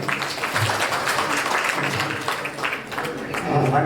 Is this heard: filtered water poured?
no